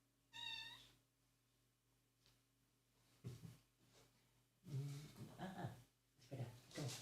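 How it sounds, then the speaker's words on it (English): A domestic cat gives one clear, close meow near the start. Soft shuffling and breathy noises follow, with a few louder rustling bursts later on. "You're hearing her meow."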